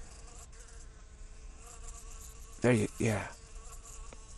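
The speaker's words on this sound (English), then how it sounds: "Is that a bee on my face?" A bee buzzes close to someone's face, a loud, near drone that comes in two short bursts over quiet outdoor background, with a brief spoken word.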